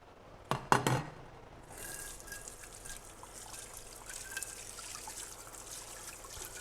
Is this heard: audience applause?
no